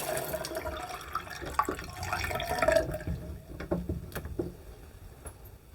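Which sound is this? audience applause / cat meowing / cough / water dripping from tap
water dripping from tap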